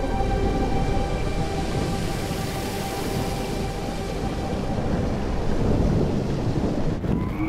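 Thunderstorm in the video game Life is Strange: a loud, steady wash of rain and rolling thunder fills the whole stretch, with a sharper crack near the end and no voices.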